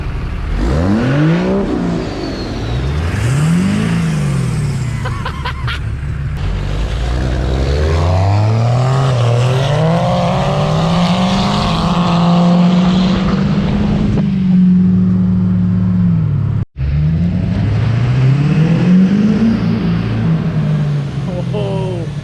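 A first-generation Cummins 4x4 diesel truck accelerating on a rain-wet road, its engine note rising and falling through several loud revving sweeps, close and dominant, with a brief cut near the end.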